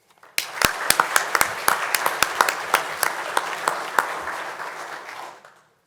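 Applause rises from an audience honouring employees recognised for cardiac saves and delivering a baby, with individual claps standing out in a moderate crowd before it tapers off near the end.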